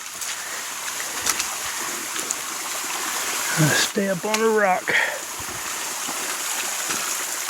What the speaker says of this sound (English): Water running in the trail here.